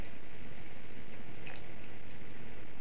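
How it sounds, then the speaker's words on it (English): Extremely hot pickling liquid is poured over sliced young ginger, giving a steady, dense wash of liquid noise with soft splashing and dripping and no voices. "you just want to pour this extremely hot liquid"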